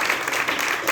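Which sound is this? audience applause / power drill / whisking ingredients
audience applause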